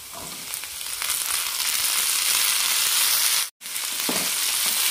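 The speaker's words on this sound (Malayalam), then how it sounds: "ഈ സമയത്ത് നമുക്ക് തക്കാളി അരിഞ്ഞിട്ട് കൊടുക്കാം" Chopped tomatoes fry with sautéed onions for a tomato kurma, a loud, continuous hiss and sizzle close up, broken by one brief cut.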